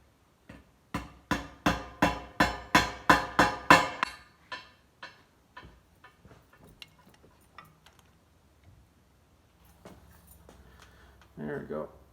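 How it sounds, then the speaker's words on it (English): A hammer taps a bent metal corner patch for a 1950 Plymouth truck opening in a quick run of about a dozen close metallic strikes that fade to sparse, softer taps, with a brief sound of handling at the end. "I'm just going to hammer this down a little bit."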